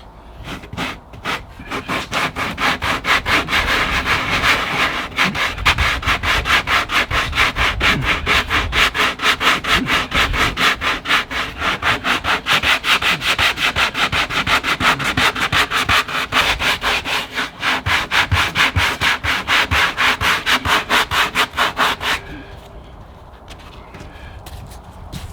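Steady back-and-forth scrubbing of 80 grit sandpaper on RV fiberglass, loud and close, running continuously for about twenty seconds before stopping.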